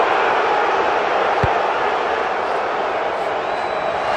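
A stadium crowd roars steadily after Samoa kicks a goal from out wide in a 2021 rugby World Cup match against Australia. The broad, continuous cheer carries a single sharp thump partway through.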